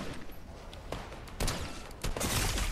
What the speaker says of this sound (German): Der hat mir dicke Sniper-Shots gegeben von da oben.